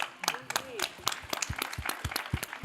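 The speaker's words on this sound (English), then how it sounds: "I think we can applaud them." A conference audience breaks into applause: brisk, dense clapping close by, with voices mixed in.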